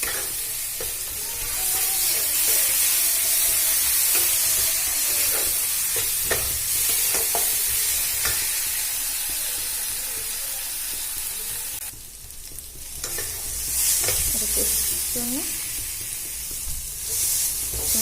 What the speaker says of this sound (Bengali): আমি এর মধ্যে আদা রসুনের পেস্টটা দিয়ে দেবো দিয়ে আবার ওইটা ভালো করে ভেজে নেবে